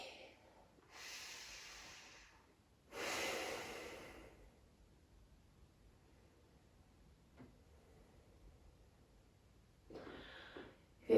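Slow, deep breaths during an evening yogalates stretch, with two long airy exhalations early on and a fainter one near the end, separated by near silence.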